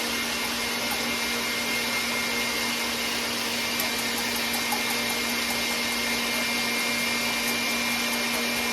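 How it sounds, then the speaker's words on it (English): An electric mixer with a whisk attachment whisks egg whites for bread-replacement rolls, a steady continuous whirring drone held for the whole stretch with no talk over it. "I'm just going to switch that over to a whisk and just mix that up for you."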